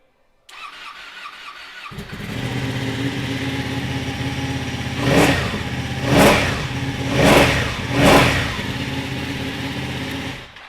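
A 2013 Ducati Panigale 899 motorcycle fires up after a starter whir, idles steadily, then gets four sharp throttle blips in a row, loud and close with no talk.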